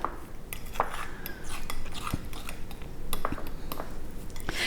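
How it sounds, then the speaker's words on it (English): A fork stirs and mashes a raw vegan chocolate truffle mixture in a bowl, giving close, repeated scraping and light metallic clicks that keep an uneven rhythm for several seconds. "And just mix it with a fork."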